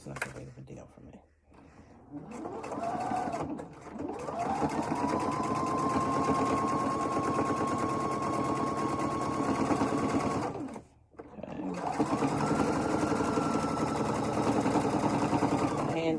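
A sewing machine stitches in the ditch on a quilt-as-you-go composition book cover, running in two long steady whirring bursts separated by brief pauses, close and fairly loud.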